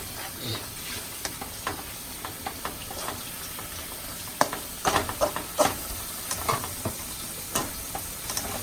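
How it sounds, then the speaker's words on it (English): Chicken and vegetables sautéing in a pan for an Italian-style sauté, a soft continuous sizzle broken by frequent scraping and tapping strokes of stirring, fairly quiet and close. "cook stirring frequently, Joel. I'm stirring like kind of often-ish"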